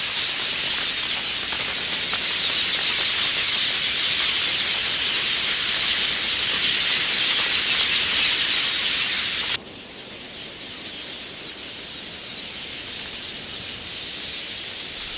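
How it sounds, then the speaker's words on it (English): A huge flock of African quelea birds over open plains produces a dense, continuous, high-pitched chattering and whirring wall of sound that drops to a noticeably quieter level about two-thirds of the way through. "These birds gather in huge flocks, forming a cloud above the plains"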